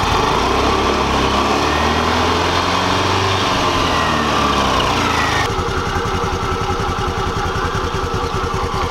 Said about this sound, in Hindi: तो मैं सोच रहा हूँ थोड़ा यहीं पे इसको गर्म कर देता हूँ अपने इंजन को